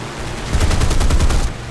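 A rapid burst of machine-gun fire from a Spitfire Mk XIV with a Griffon engine in War Thunder's realistic air battles, a loud, fast rattle of evenly spaced shots lasting about a second before stopping.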